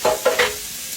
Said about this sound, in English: We're going to saute this a little bit.